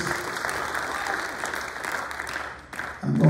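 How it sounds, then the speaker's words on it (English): Church congregation clapping in praise at a Baptist testimonial service, a dense steady wash of hands through most of the stretch, dipping briefly before swelling again with some voices mixed in. "Give God a hand clap of praise"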